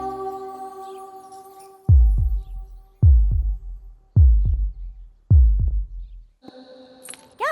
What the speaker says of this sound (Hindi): अगर ये तुम्हारे पास रहेगी तो मेरी धड़कन तुम्हें सुनाई देगी